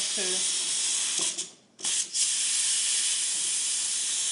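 Pressure cooker venting steam from a beef stew, a loud steady hiss that dips briefly before rushing back and continuing strongly to the end.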